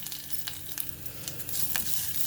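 Garlic cloves drop into hot tempering oil already holding curry leaves, for a sorrel and moong dal curry, giving a steady close crackling sizzle with small pops that grows a little louder toward the end.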